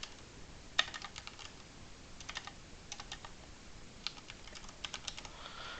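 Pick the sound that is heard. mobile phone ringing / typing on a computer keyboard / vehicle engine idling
typing on a computer keyboard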